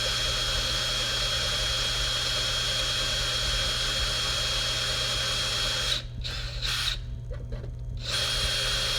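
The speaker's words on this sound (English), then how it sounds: "If you drill right in the center of that, you can drill the rivet out." A power drill drills out a rivet on a gate wheel, running as a steady loud whine that keeps going, then cuts out and restarts in short bursts near the end.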